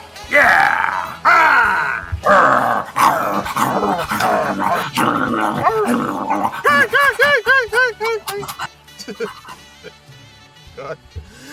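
People imitate dogs with a voice, producing loud, close grunts, growls and barking-like yelps that break into rapid rhythmic panting bursts before fading out.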